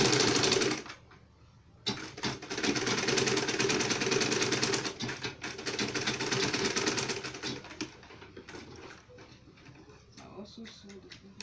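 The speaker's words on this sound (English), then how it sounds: "I also sew the other side." A sewing machine stitches along the side of a fabric double-pocket purse, its steady rapid needle clatter running through most of the stretch with brief pauses, close and fairly loud, with a voice talking over it.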